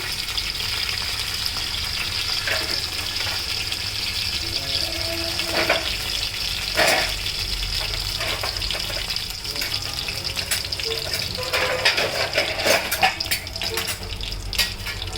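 Four dried red chillies and other ingredients frying in a pan for mango pulihora, giving a steady broadband hiss of hot oil with scattered light crackles and occasional clatter, continuous for about fifteen seconds.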